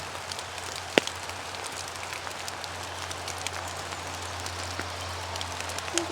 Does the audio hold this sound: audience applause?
no